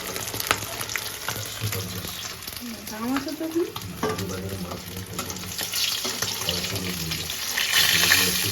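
Rupchanda fish frying in a pan, a steady sizzle running throughout with some stirring and clinking, faint voices and background household noise mixed in.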